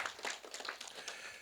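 Light, scattered clapping from a small congregation during a Sunday church service, brief and fairly faint, with no voices over it.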